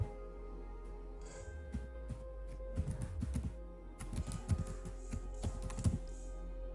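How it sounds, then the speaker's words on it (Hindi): Quick bursts of clicking keystrokes on a computer keyboard as a URL is typed into a Google Chrome browser, close and fairly loud, in an uneven rhythm of taps with brief pauses. "इसमें हम दिशा पोर्टल का URL आईडी टाइप करेंगे"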